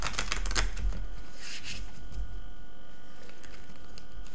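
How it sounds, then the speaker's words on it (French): Oracle cards are shuffled and drawn, giving soft papery flicks and taps in a few quick bursts, close and fairly quiet against a faint background hum. "Je vais juste prendre quelques cartes de l'oracle G."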